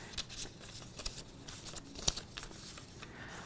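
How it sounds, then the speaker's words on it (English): Sheets of paper get shuffled together, giving soft crinkling rustles and a few light taps, faint and close with no talking. "we'll just shuffle these up a little bit here"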